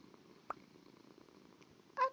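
Minecraft-style game cat making a soft purring rumble with a brief sharp click and a short high meow at the end, quiet and close.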